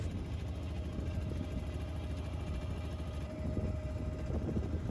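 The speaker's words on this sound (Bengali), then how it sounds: "আমাদেরও বোট চলতেছে" A boat engine drones steadily on the Meghna river, a continuous low rumble with a faint tonal whine running throughout, fairly distant and unbroken by talk.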